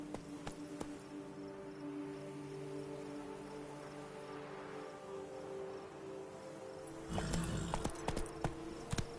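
Roach, the horse in The Witcher 3 video game, gallops with a steady clip-clop of hooves that grows louder and more forceful near the end, over a low sustained game hum.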